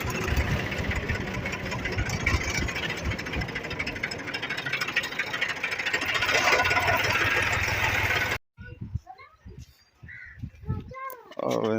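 A tractor engine idles steadily with a low mechanical rumble and rattle through light rain in a village for about eight seconds, then cuts off abruptly, leaving only someone talking close by.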